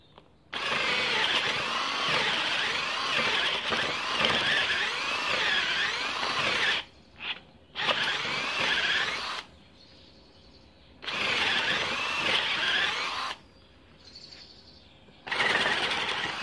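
A power drill bores into a wooden log while a log reindeer is being made: four loud, close whining bursts of drilling separated by short quiet pauses where the bit stops, with no voices.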